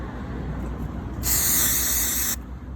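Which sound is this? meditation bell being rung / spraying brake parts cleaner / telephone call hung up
spraying brake parts cleaner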